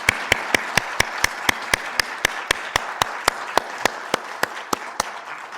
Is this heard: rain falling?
no